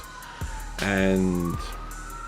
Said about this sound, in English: If you hear the siren in the background, I apologize.